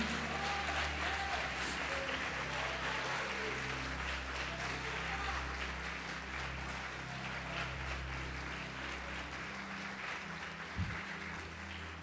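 Applause from a church congregation during a worship service, a dense, steady wash of clapping lasting the whole stretch over a low sustained musical hum, with voices mixed in.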